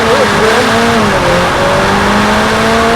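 A Lotus Emira launching hard from a standstill, its engine note climbing through the revs with a touch of wheelspin, loud and close; a voice speaks briefly over it.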